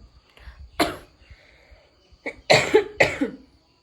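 Someone with a lingering cough lets out one sharp cough, then after a pause a close, loud cluster of three or four harsh coughs in quick succession.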